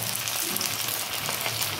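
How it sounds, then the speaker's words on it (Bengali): Flat-bean koftas fry in hot oil, giving a dense, loud, continuous sizzle heard up close with no break. "পুরো তেল গরম হয়ে গেছে, আর আমি এখন এখান দিয়ে একটা একটা করে কোপ্তা গোল গোল আকার করে কোপ্তার আকারে ভেজে নেব।"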